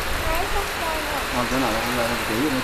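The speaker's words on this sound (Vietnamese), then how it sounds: "Mưa quá trời mọi người." Heavy rain falling outside, a dense steady hiss heard from a sheltered spot, with a person talking over it throughout.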